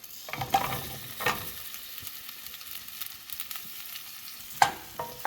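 Onions sizzling in a pan for shahi paneer while being stirred, a soft frying hiss broken by several scraping clatters of the spoon against the pan.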